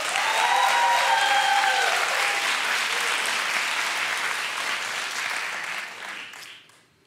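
Loud, sustained applause from a TV talk show studio audience that gradually fades out toward the end.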